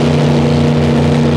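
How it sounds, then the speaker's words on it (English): A Pro Stock doorslammer drag racing car with a 520 to 540 cubic inch engine sits at the start line at a 1995 ANDRA event, its engine held at loud, steady high revs in a brief burst. "Bringing the revs up"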